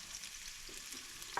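Onions fry in olive oil in a pan with a soft, steady sizzle heard close up, faint and even, with a brief scrape of stirring at the very end and no talk.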